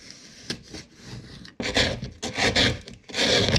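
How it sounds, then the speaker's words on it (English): A wooden trim jamb is scraped by hand to remove a high spot under window and door casing, giving close, rasping strokes in repeated bursts that grow louder and longer after a pause. "So after scraping that out, it doesn't give us a high spot that the casing's going to pivot on anymore."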